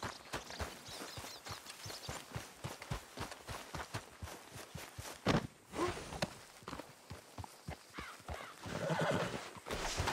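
A horse in the Red Dead Redemption 2 game neighs and whinnies while its hooves clip-clop in a steady walking rhythm, close and fairly loud, with a louder snort or whinny partway through.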